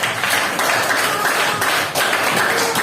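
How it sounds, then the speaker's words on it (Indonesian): Classmates in a small-group classroom lesson clap their hands together in a brief, loud, dense burst of close-up applause that dips for a moment partway through. "Beri tepuk tangan dulu,"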